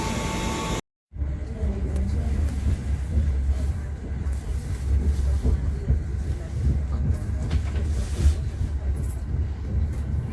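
A passenger train, the Kahuripan, runs with a continuous deep rumble and rattle, heard from close by, staying steady after a brief cut at the start.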